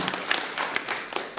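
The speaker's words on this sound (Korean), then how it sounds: "박수 쳐주시고" A church congregation claps during a Sunday worship service, a brief, fairly quiet spatter of hands with a few sharper claps standing out.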